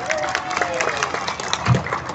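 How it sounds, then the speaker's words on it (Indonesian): Crowd applause at a Universitas Negeri Jakarta rally and reunion of 1998 student activists, a steady close patter of clapping throughout with a voice speaking over it. "Tepuk tangan untuk kita semua."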